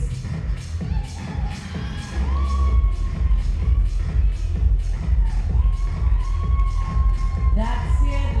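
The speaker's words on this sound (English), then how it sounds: "let's give our athletes a huge round of applause" At a Dubai bodybuilding show, a large audience claps and cheers steadily from a distance. The sound is a dense wash of applause with scattered shouts and whistles rising over it.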